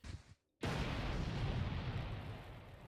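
Loud explosion from Aloy's elemental burst, Prophecies of Dawn, in Genshin Impact, dealing cryo damage: a short dip to silence, then a sudden heavy blast that roars on at full strength and fades only slightly.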